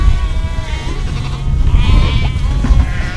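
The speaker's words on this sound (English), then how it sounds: "Sorry sheep, you do not fit in there" Sheep bleat repeatedly at a farm during intensive grazing season, a chorus of close, overlapping calls over steady livestock and outdoor noise.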